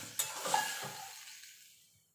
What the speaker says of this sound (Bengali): এবার সামান্য একটুখানি জল দিয়ে দেবো।